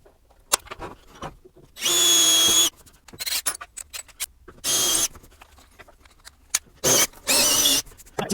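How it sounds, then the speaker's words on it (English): A DeWalt cordless drill with a small bit whirs in several short bursts, grinding into material to drill mounting holes for a bench vise, separated by scraping, clicks and handling noise nearby. "Then I'm going to take my DEWALT drill, start out with a small drill bit"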